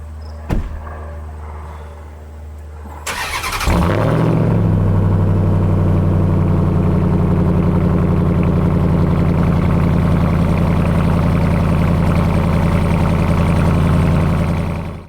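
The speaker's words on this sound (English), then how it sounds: "The cold start sound will wake the neighbors." A Ram 1500 TRX pickup truck cold-starts after a click and a short starter crank, its engine bursting into a loud roar and then settling into a deep, steady, rumbling idle that continues until it cuts off at the end.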